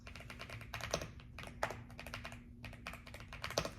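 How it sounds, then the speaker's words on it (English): Typing on an AULA wireless RGB mechanical keyboard, a quick, uneven run of crisp clicking keystrokes, close and fairly soft, with a brief lull midway. "So you can see even the clicking is really, really nice. I really enjoy mechanical keyboard."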